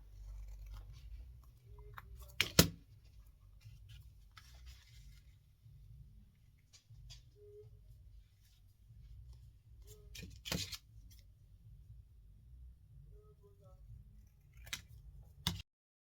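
Scissors snip the corners off paper tags for a junk journal, giving a few sharp, quiet cuts spaced apart over soft handling noise.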